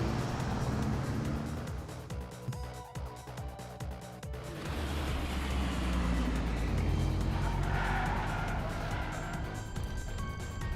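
A driverless transport car speeds through streets in Trails through Daybreak, its engine roaring loudly and steadily with tire squeals and skids as it swerves to evade pursuers.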